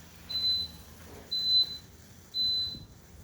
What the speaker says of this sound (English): All that beeping is Glenn's scooter